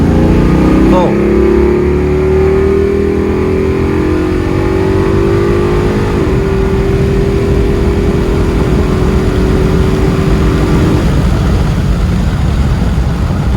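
A 1995 Impala SS with a 383ci engine and big cam drives on a road, a loud throaty engine drone that revs up and holds steady as it climbs through the gears, with a voice speaking briefly over it.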